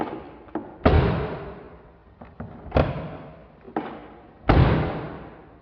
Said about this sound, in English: listen to me open and close the door on the old one